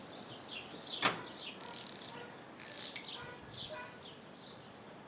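Unlubricated ratcheting wrench clicking in short bursts, several quick, close rattling ratchet sweeps separated by pauses, fairly quiet against a soft background.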